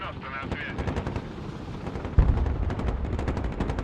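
Rapid machine-gun bursts and heavy gunfire in the Broken Arrow war game as helicopters are shot at near a train line, a dense continuous rattle with a sharp loud impact midway and faint voices underneath.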